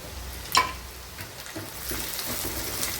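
Thinly sliced ginger fries in hot oil for puli inji, giving a steady hiss of sizzling. A brief sharp clatter comes near the start, and the frying grows slightly denser toward the end.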